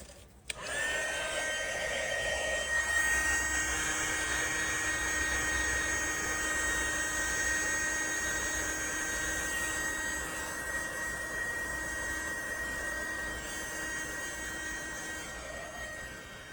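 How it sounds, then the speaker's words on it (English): A heat gun blows steadily over poured epoxy resin art, giving a continuous airy roar that holds at an even level for the whole stretch, close and alone. "let's do our heat gun again"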